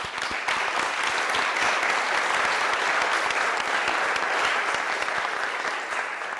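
A large audience at a Rotary club gathering breaks into sustained, dense applause, loud and continuous from start to finish.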